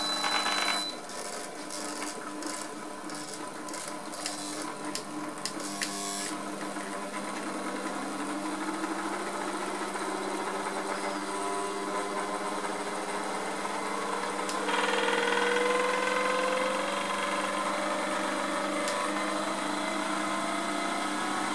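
A water pump electric motor being run as a generator hums steadily with a mechanical whine, rising in pitch and growing slightly louder partway through, continuous and close with no talk.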